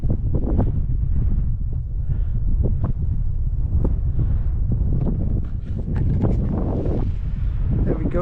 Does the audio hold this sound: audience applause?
no